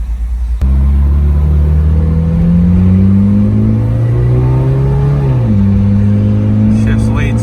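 A Toyota AE86 fitted with a Weber carburetor starts a test drive, its engine droning loudly and steadily as revs climb through a gear, dip briefly, then settle, with a voice faintly underneath.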